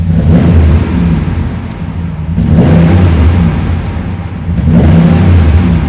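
Ram 1500 Rebel pickup with racing headers revs three times, each a loud, deep throaty swell of exhaust rising and falling with brief dips between, close by and with no talk.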